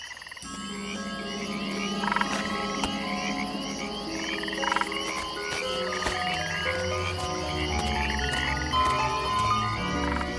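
Frogs croaking at an African lagoon, a dense chorus of overlapping calls and trills that runs steadily throughout at moderate distance, with no voices.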